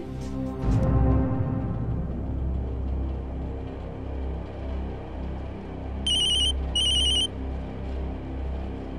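A phone rings with two short electronic trilling bursts over a low background hum, after a brief thump at the start.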